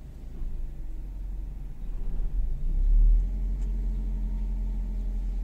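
Car engine idling and rumbling low and steady as the vehicle reverses slowly during a driving lesson in the owner's own car, swelling briefly midway, with no talk over it.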